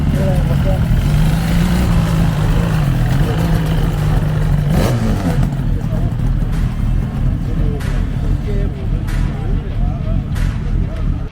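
A motorbike engine rumbles and revs at a motorbike meet, rising briefly before settling, loud and close, with background chatter mixed in.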